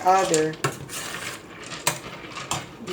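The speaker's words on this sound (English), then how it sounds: "So now we're just going to stir it, and we're just going to let it boil." A spoon stirs macaroni in a pot for homemade mac and cheese, giving irregular metallic clinks and scrapes against the pot, close and fairly loud, with a brief tonal ring at the start.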